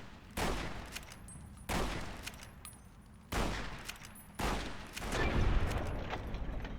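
Gunfire in the video game Fallout: New Vegas, four sharp shots spaced about a second apart, each with a lingering tail, the last followed by a longer rumbling burst.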